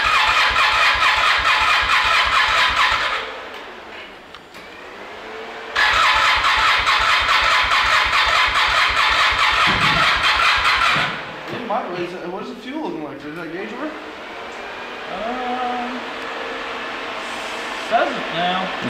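Engine of a 300 hp Arctic Cat Wildcat 4X side-by-side, freshly fitted with a new radiator, revving loud and close in two long sustained bursts separated by a short lull, then idling unevenly while people talk nearby.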